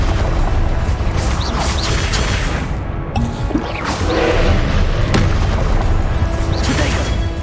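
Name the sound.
spell combat explosions in video game Hogwarts Legacy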